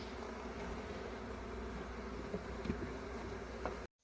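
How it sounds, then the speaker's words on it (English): Honeybees swarm around an open hive during an inspection, giving a steady, dense buzzing drone that continues alone at even loudness before cutting off abruptly at the end. "Buzz didn't really change. They just are all flying around now."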